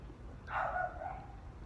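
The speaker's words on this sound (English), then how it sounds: "there's this dog barking outside" A single short dog bark comes from outside, muffled and moderately distant, rising above a low steady background hum.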